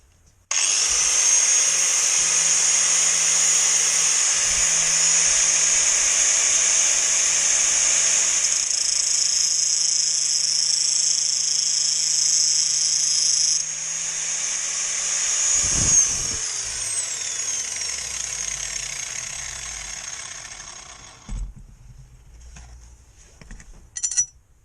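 A power tool grinding and drilling on a motorcycle build: a long, steady, high-pitched whine that runs unbroken for about fifteen seconds, then shifts and winds down, ending in a few knocks and clatters.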